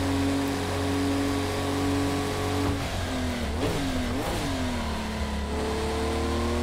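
A Porsche race car engine in the Project Cars 2 racing game holds a steady drone, then blips up in two quick revs before settling back to a smooth hum.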